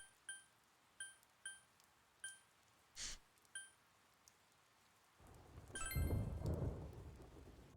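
Rain and thunder in the video game Persona 4 Golden: a dull thunder crack amid repeated chiming tones, then a rushing downpour swells in near the end and grows loud.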